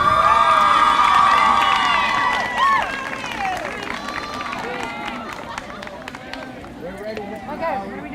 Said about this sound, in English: Make sure you cheer.